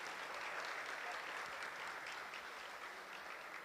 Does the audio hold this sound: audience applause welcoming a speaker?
yes